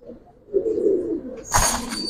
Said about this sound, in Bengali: মাশাআল্লাহ অনেক সুন্দর কবুতর